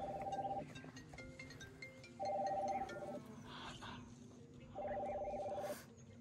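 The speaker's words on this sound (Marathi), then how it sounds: "कोणता फोन आला ग?" A mobile phone rings outdoors in repeated electronic tone bursts, each under a second long with pauses between, fairly clear over faint background noise.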